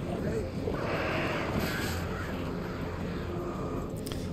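Crows cawing in the horror video game Alan Wake Remastered, harsh calls over a steady dense ambient bed, with a voice speaking over it.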